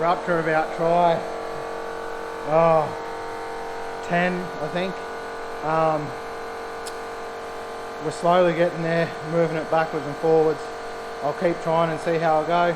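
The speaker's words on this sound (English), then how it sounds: "Sorry for the compressor noise." Air compressor running steadily in a hot workshop shed during a mini truck repair, a constant droning hum beneath someone talking close to the microphone.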